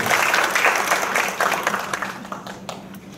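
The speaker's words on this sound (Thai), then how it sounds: "ขอเสียงปรบมือต้อนรับ" An indoor seminar audience at an ISO and PMQA audit training session claps to welcome a speaker. The dense applause is loud at first, then thins out and fades.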